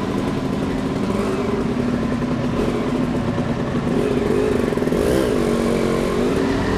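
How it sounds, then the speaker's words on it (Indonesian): A small Vespa scooter engine drones steadily and close for the whole stretch, with a slight rise in revs partway through as it rides along, carrying a constant mid-pitched hum. "Gua gak nyangka banget sih, tapi ini Vespa ya, kecil kayak gini."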